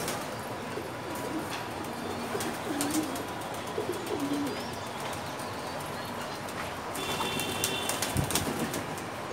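A Russian Angel pigeon coos in a few low, soft, rolling calls amid the steady, noisy bustle of a busy pigeon market in Dhaka, with other birds and clatter in the background.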